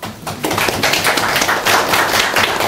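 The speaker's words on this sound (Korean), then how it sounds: "박수 안 쳐요?" Audience clapping at a wealth-mindset seminar, a dense, steady patter of many hands filling the room without pause.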